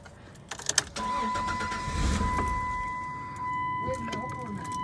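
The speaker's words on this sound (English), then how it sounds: "we're about to finally start up my car." A car is started after sitting unused for months, its engine cranking and catching into a steady running sound after a few short knocks, with a persistent tone above and people talking nearby.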